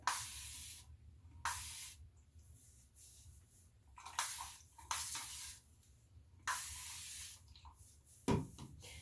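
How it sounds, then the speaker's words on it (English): A spray bottle mists hair treatment around the perimeter of natural hair in a string of short, soft hissing bursts. The bursts are close and fairly quiet, with pauses between them. "Let me spray the perimeter."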